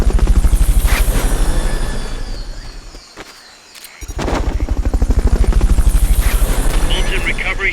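A rescue helicopter in the stealth game Metal Gear Solid Peace Walker thumps with loud, rapid rotor beats that briefly drop away for a moment, then return at full strength.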